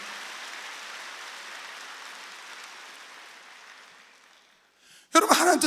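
A church congregation applauds for a few seconds, a broad patter of clapping that slowly fades out, followed by a sudden loud burst of sound at the end.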